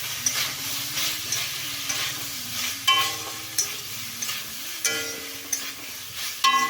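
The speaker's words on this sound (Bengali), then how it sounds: "এখন একটু কষিয়ে তারপরে জল দেব" Cauliflower curry sautés in a pan with a steady hiss and sizzle. A spoon gives repeated clinks and scrapes against the pan at uneven intervals. No speech.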